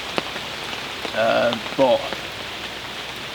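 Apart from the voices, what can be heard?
rain falling on bushcraft camp during storm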